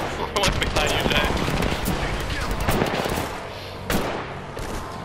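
Rapid automatic gunfire from a multiplayer shooter game crackles almost continuously in dense bursts, loud and close, with excited players talking over it.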